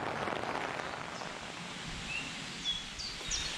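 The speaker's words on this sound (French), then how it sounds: "on s'endort sous la pluie" Steady rain pattering on a tent at night during a thunderstorm, a dense, even wash of drops that continues throughout with no voices.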